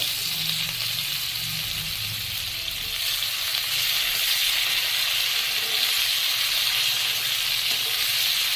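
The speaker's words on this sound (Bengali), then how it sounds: "এবার কেটে রাখা পেঁয়াজগুলো আমি এটাতে দিয়ে দেব। এবার আমি পেঁয়াজটা ভালোভাবে ভেজে নেব।" Chopped onions fry in hot oil for a mutton pulao, giving a steady, close, even sizzle and hiss that holds throughout with no talking.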